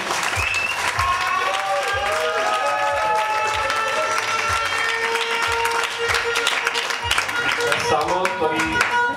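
An audience at a slam poetry show in Žilina, Slovakia, applauds steadily throughout, the clapping dense and continuous, while a voice and some tones run underneath.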